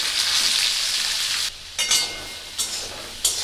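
Nigella seeds and paneer frying in hot oil, a loud continuous sizzle that drops back and then flares again in several bursts as pieces are added or stirred.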